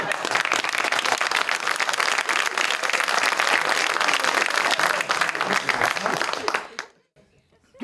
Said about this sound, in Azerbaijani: Qoy qardaş əl çalsın, o əl çalmaq istəyir.